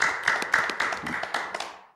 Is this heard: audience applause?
yes